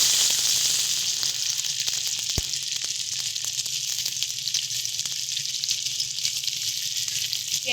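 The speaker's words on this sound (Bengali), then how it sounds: "পেঁয়াজটাকে হালকা করে একটু ভেজে নেব।" Chopped onion fries in hot oil in an iron wok, giving a loud, dense, steady sizzle with faint crackles and one sharp tap, close and alone.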